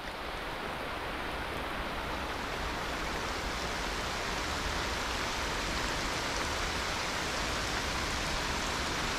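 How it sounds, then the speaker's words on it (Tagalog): Heavy rain pours steadily outdoors beside a river, a loud, dense, continuous hiss with no voices. "Lumalakas yung ulan mga master"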